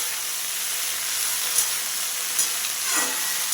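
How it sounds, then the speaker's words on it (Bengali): Yardlong beans stir-fry in hot oil with tempering spices, producing a close, steady hiss and crackle with faint scraping as they are tossed. "নাড়াচাড়া করে নিলাম বরবটিগুলোকে ফোড়নের সঙ্গে আর তেলের সঙ্গে মিশিয়ে"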